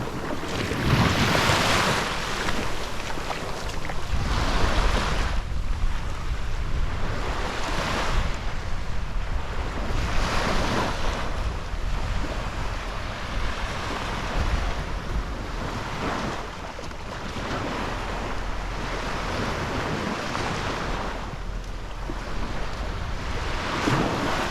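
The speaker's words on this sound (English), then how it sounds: "You just hear the waves." Ocean waves wash onto the beach at Boracay in the Philippines, a steady roar of surf swelling and receding every few seconds, with wind buffeting the microphone.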